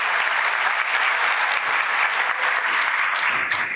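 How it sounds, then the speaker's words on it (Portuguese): Steady, dense applause from an indoor audience at a Brazilian government ceremony, honoring an Olympic physics medalist, sustained and loud throughout without a break. "Uma salva de palmas para ele."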